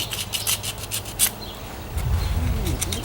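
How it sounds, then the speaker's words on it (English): Hand sanding rasps in quick, repeated strokes on a butcher knife, close up, then gives way to a lower rumbling scrape. "So you just keep sanding on it."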